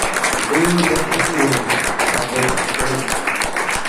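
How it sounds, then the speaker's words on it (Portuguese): A church congregation claps during a worship service, a dense, steady patter of many hands, with voices talking and calling out over the applause throughout. "Receba o servo de Deus, aplaudindo a Jesus."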